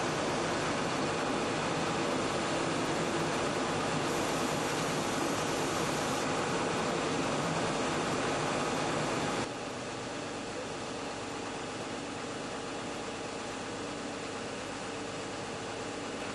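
A machine's warmed-up engine runs steadily while an oil sample is drawn through a valve probe, a dense even roar that drops slightly in level about halfway through and carries on without talk.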